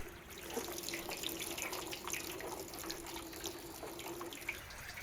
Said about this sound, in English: We'll help the juice drain faster by pressing down on the pulp with a ladle.